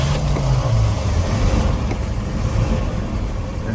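An old truck engine, just started with the choke pulled and a few shots of gas, runs with a steady low rumble close by.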